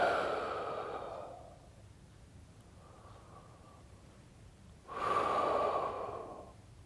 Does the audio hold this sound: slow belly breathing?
yes